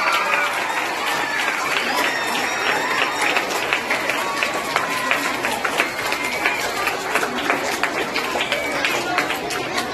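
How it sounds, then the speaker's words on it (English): A kindergarten Teachers' Day celebration crowd claps continuously in a dense, steady patter, with chatter and voices mixed through the applause. "Give big round of applause"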